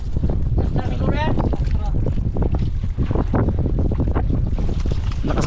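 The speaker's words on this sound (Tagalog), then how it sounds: "Lakas kasi yung alon." Strong sea waves and gusting wind batter a small fishing boat offshore, a loud, continuous rush of water and wind noise, with voices talking over it.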